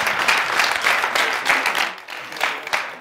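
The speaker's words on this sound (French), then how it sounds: "On applaudit très fort pour eux." Studio audience at a comedy clash show applauding guests, lively clapping in pulsing waves that dips briefly before picking up again.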